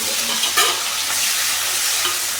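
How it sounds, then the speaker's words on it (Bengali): Chopped onion and green chilli sizzle steadily in a hot pan while being stirred. The loud, continuous hiss of frying carries on alone, with no voices. "একটু ভাজা ভাজা করে নিই"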